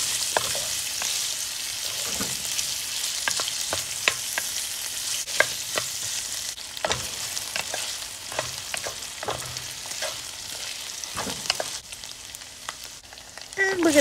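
Meat fat renders in a pan for a Chinese braised arrowroot dish, giving a continuous crackling sizzle broken by many sharp spatter pops and stirring clicks, steady and close.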